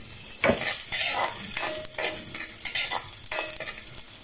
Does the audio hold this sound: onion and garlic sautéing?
yes